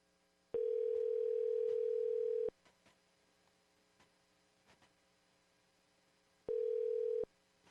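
A telephone line gives a steady dial tone on a call during a public meeting. One long tone lasts about two seconds, then quiet line noise with faint clicks follows, then a shorter burst of the same tone.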